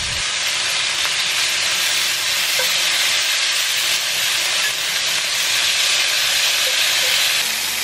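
Broccoli, zucchini, red pepper and green beans sizzle in olive oil and butter in a pan, a loud, steady hiss with faint crackles that runs close and unbroken throughout, with no voices.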